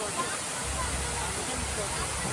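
Waterfall spray at Salalah, Oman, a loud, continuous broadband rush of falling water close by, with voices faintly mixed into the roar.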